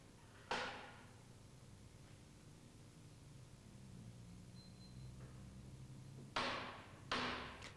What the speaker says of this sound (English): Tap the bearing case carefully with a plastic hammer to prevent damage and remove the bearing case.